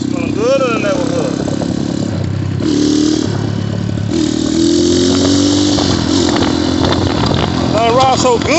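An Xmotos 250cc motorcycle engine running steadily while riding, with mid-pitched engine drone and some revving and clatter throughout, mostly under a voice talking close by.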